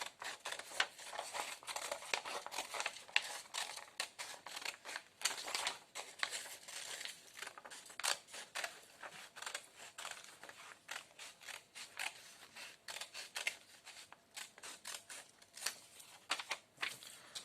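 Scissors snip steadily through paper, cutting out shapes for a thaumatrope craft: a continuous run of close, crisp cuts and rustles with an uneven rhythm, no talking.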